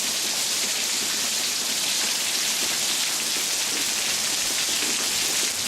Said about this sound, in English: Rain just pouring down like crazy.